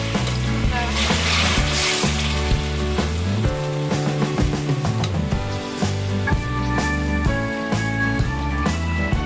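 Garlic ginger paste sizzles in hot oil in a home kitchen pan, continuous frying crackle under loud background music.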